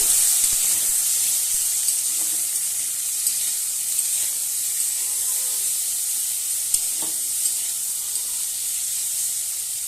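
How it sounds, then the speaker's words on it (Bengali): Fish curry with okra and potato frying in a hot pan while being stirred, a steady close hiss and sizzle with occasional soft clicks of the spoon, no voices. "এবার আমি ভালোভাবে নেড়ে নেব।"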